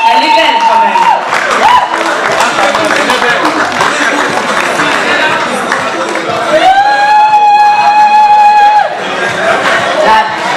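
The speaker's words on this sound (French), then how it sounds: "Des applaudissements s'il vous plaît" An audience at a Kinshasa fashion show claps and cheers in a dense, loud crowd roar that runs throughout, mixed with chatter, shouts and bursts of music.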